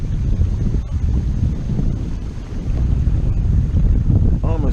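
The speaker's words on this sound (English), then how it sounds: "The wind, look how choppy the waves out here are." Strong wind gusts buffet a small boat on Prettyboy Reservoir as choppy water slaps and splashes around it, a loud, continuous rushing roar with heavy microphone wind noise throughout.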